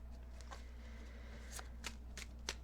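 Tarot cards being shuffled and drawn by hand: a few crisp riffling bursts and snaps, spaced apart, over a steady low hum with no talking.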